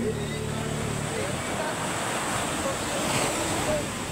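Waves wash onto a shore as people wade out to meet them, a steady broad surf roar with strong wind buffeting the microphone and a low rumble early on.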